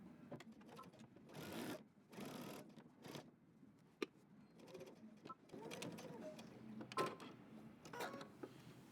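A sewing machine stitches a seam on a denim jacket in repeated short runs with brief stops between them, close and steady, with small clicks and handling noises.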